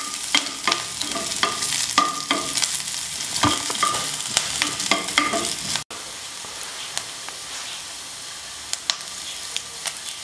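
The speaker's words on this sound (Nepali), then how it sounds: "यसलाई पनि एकछिन रातो रातो हुने गरी फ्राई गर्नुपर्छ।" Green chillies with pieces of ginger and garlic fry in a pan, giving a loud, steady sizzle broken by frequent scraping stir strokes, then easing to a quieter sizzle with occasional clicks; no one speaks.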